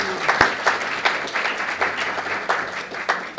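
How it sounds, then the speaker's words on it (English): A live audience at a talk on smart meters breaks into a round of applause, a dense, steady wash of many hands clapping with a few sharper individual claps standing out, filling the room without any talk over it. "Round of applause if you saw that movie."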